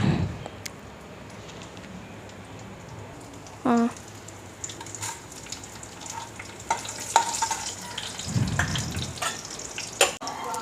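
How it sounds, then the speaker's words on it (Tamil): Whole spices such as bay leaf, cinnamon, cardamom, cloves and fennel crackle and sizzle in hot oil in a pan, a steady close frying hiss with a few stirring clatters and no speech. "ஃபஸ்ட்டு வந்து பிரிஞ்சி இலை, பட்டை, ஏலக்காய், கிராம்பு, சோம்பு இதெல்லாம் முதல்ல போட்டுக்கணும்."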